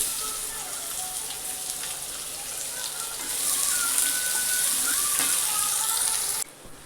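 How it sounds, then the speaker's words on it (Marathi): Chopped onion hits a hot pan of roasted green chillies, giving a steady broadband sizzle that grows louder partway through before cutting off abruptly near the end. "आता चिरलेला एक कांदा आहे, तो कांदा टाकून देते"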